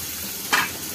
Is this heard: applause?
no